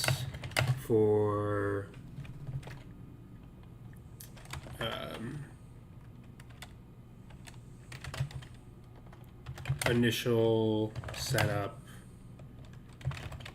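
Soft keystrokes patter on a computer keyboard in short bursts between stretches of someone talking nearby.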